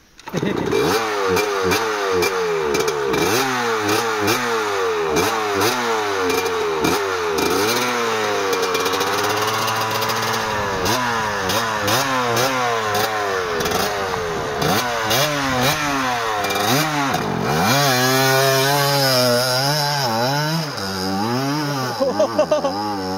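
A trail motorcycle engine revs loud and close for the whole stretch, its pitch climbing and falling repeatedly in long throttle sweeps, with a sharper burst near the end.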